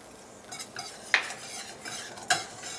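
Butter whisked into a Marsala pan sauce off the heat, a soft continuous stirring swish broken by a few sharp metallic clinks of the whisk against the pan, close up with no voices.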